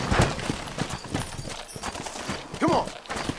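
Rhythmic hoofbeats of a galloping horse in the video game Red Dead Redemption drum steadily throughout, with a short whinny-like sound near the end and bits of background game noise.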